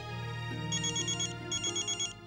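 A phone ringtone plays as a loud electronic melody, with pulsing high beeps repeating over a steady tone in two short phrases, and no voices over it.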